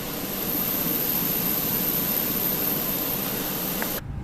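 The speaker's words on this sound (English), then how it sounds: "if you ever went beside an airplane and you with its engines off and you heard a loud high-pitched noise, what that is the APU" An Airbus A320 auxiliary power unit runs in Microsoft Flight Simulator, a steady, loud roar with a thin high-pitched whine on top, unbroken for about four seconds before it cuts off abruptly.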